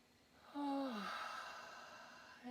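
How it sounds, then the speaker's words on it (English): A single audible breath drawn in, soft and close, followed by quiet room tone. "Breathing in on the way up."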